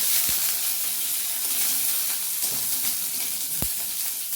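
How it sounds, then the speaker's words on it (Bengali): Eggplant frying lightly in hot oil in a pan for Bengali shukto, a steady close sizzle with a couple of soft knocks, no voices. "এর মধ্যে দিয়ে দেবো বেগুন। বেগুনটা খুব হালকা করে ভেজে দেবো, খুব হালকা করে।"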